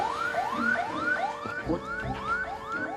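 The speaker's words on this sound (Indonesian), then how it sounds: "Agak deg-degan gue kalau dengar suara sirine" A wailing siren cycles repeatedly in rising sweeps, loud and steady, with a few short chirps mixed in and no talking.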